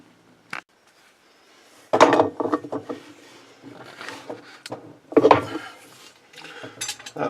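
Metal clinks and clatters, like a wrench working a nut loose on a washing machine tub during a repair, with a single click early on, then two bursts of rattling handling and scattered knocks, close and moderately loud.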